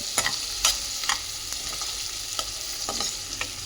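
Onion fries in a pan until pinkish for a vegetable dish, with a soft sizzle under repeated sharp scraping taps from stirring, spaced roughly every half second, and no voices.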